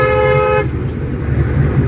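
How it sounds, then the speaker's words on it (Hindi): A single long car horn blast, loud and close, sounding steadily for over half a second before cutting off into engine and road noise. "आगे स्कूटी चल रही है, लॉन्ग हॉर्न प्रेस करने के।"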